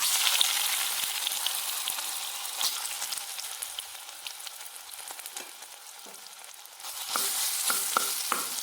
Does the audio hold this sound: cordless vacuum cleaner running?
no